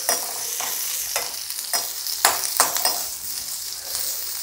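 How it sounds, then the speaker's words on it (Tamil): Green chillies fry in hot oil in a pan, giving a steady close sizzle broken by several scraping stir strokes and faint clinks of a spoon against the metal. "பச்சை மிளகாய் வதங்கட்டும்."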